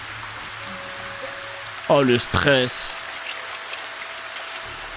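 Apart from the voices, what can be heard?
rain falling in anime episode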